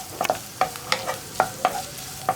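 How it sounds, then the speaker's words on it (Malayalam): Sliced onions and potatoes fry in a pan for aval uppumavu, a flattened rice breakfast, while a spoon stirs in regular scraping strokes over a steady sizzle, up close with no voices. "ഇതിലേക്ക് നമുക്കിനി നമ്മുടെ സവോള ചേർത്ത് കൊടുക്കാം."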